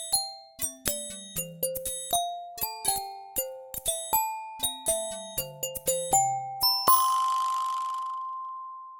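A micro:bit sounds a bright, beeping electronic melody with a syncopated rhythm, each short tone sharply attacked and decaying quickly, ending on one longer sustained note that fades out, with no talk.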